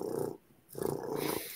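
A cat purring close up in two long rumbling bursts separated by a brief pause, steady and soft with no talking.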